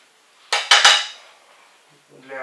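A trivet stand for hot pots and dishes being handled, giving three quick, close metallic clinks that ring out and fade, followed by quiet.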